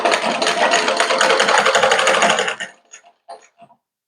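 Sewing machine stitching a blouse neck, a loud rapid mechanical whirring run for about two and a half seconds, then stopping with a few short clicks and taps.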